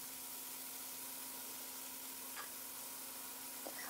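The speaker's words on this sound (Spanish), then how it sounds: "Vamos a ir moviendo la carne para que se vaya dorando parejito." Chicken breast browning in a pan while being cooked for a quinoa chaufa gives a faint, steady sizzle and crackle with a few small ticks near the end, and no talking.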